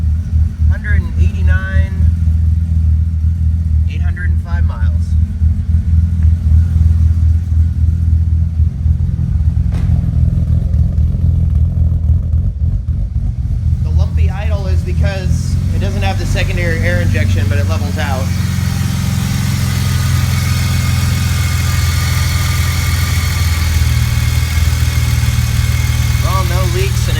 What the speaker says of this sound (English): Just gonna do a cold start.